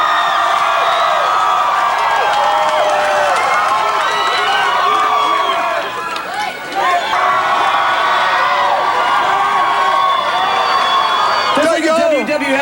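A concert crowd roars and cheers steadily during a performance at the 2003 Summer Sanitarium tour, with a dense wash of voices and whoops continuing loudly throughout and voices talking over the din.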